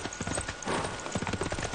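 Hooves of Saka horsemen units in Civilization VI clopping in a quick, uneven rhythm of many overlapping hoofbeats, moderately loud, from a mounted group on the move.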